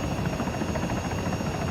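Helicopter hovering in the ArmA 3 game, a steady, loud rotor drone with a rapid rhythmic thump and a thin high whine, heard alone.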